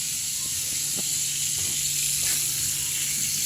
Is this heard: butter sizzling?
yes